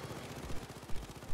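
Sentry gun firing in the shooter Payday 2, a dense rattling stream of rapid automatic shots under a busy game mix, steady throughout with a few louder thumps.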